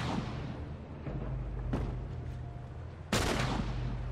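Gunfire from The Last of Us game combat, a dense rumbling run of shots with a sharp louder burst near the end, steady and continuous with no talk.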